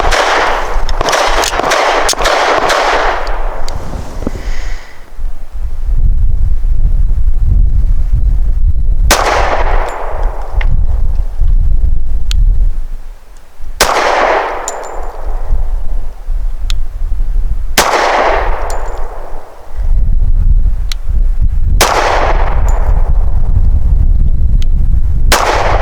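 Close, loud shots from an American Classic Commander 1911 pistol loaded with 230 grain full metal jacket rounds, five sharp reports spaced several seconds apart, each ringing into a decaying echo.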